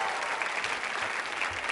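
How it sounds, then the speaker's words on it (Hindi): Hall audience applauding during a Rajasthani culture quiz show at a women's college, a dense, even burst of clapping from many hands with no speech over it. "तालियां बजा सकते हैं।"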